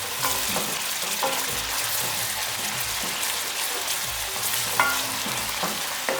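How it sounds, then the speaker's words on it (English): Two tablespoons of ginger sautéing in a pan with garlic paste for a restaurant-style Goan vindaloo sauce, giving a steady, close, fairly loud sizzle and crackle with occasional stirring scrapes, no voices. "Now I have to put the 2 tablespoon ginger only. Garlic I already paste it. You have to saute a little bit."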